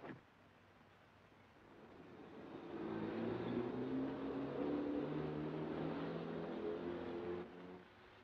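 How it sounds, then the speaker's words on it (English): A car approaches on a road in 1940s Germany. Its engine hum rises out of quiet to a sustained steady drone as it draws near, then eases off slightly at the end. "It's a car coming."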